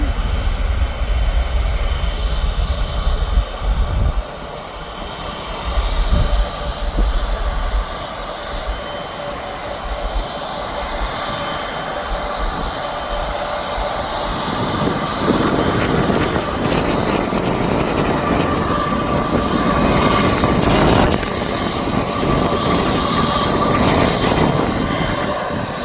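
A jet airliner, a Jet2 flight bound for Alicante, roars loudly and continuously at Birmingham Airport, a broad steady engine rumble that swells slightly toward the end with no voices over it.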